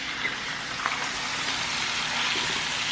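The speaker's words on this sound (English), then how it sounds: "All we're looking to do is just sear all of the sides." Pork tenderloin searing in a hot pan gives a steady, close hiss of sizzling fat that holds at an even level throughout, with a faint tap or two.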